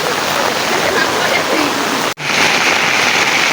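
Heavy, continuous rain pours down in Sambalpur, a loud, steady, close roar of water with one momentary dropout before it resumes.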